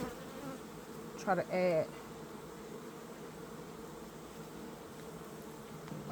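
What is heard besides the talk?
honey bees buzzing at hive during inspection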